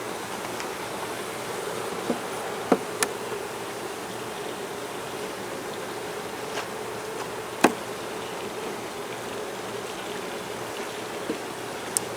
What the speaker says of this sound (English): Looks like they've been busy on that hive.